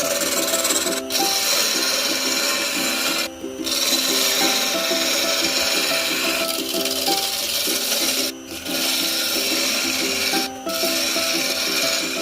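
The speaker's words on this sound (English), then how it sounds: "Now we use the roughing gauge to remove the unwanted layers of wood from our sample." A wooden blank being shaped with a roughing gauge on a lathe, giving a continuous loud rasping, scraping cut with a steady whirring hum and brief pauses as the tool lifts off.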